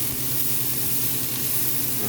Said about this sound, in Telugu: పోపు వేగింది, దాంట్లో ముక్కలు వేసేసుకున్నాం